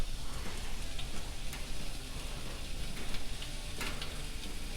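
Filet mignon steaks searing on a Blackstone griddle: a steady, dense sizzle and crackle of frying meat, close and continuous, with occasional sharper pops and no talking.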